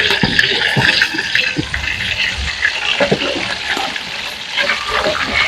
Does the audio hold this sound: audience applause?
no